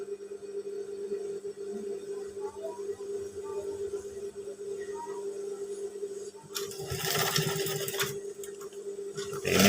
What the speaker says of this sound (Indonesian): Dan kita jahit step balik.